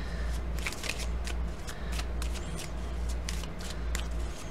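Lenormand cards being shuffled close up, a continuous papery riffle of quick overlapping flicks and slaps with a low steady hum beneath, no speech.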